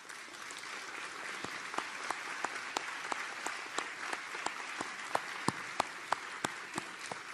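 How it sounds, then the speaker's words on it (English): Sustained applause from a convocation crowd, steady dense clapping with a few sharper claps standing out near the front, no voices. "let's give them a round of applause."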